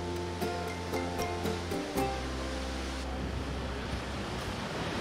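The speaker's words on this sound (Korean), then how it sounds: "난 무더위에 지친 심신을 파도 소리에 실어 보냈다" Waves wash steadily onto Varkala beach in Kerala, a soft continuous surf hiss with gentle rising swells, heard faintly beneath a few bright musical notes early on.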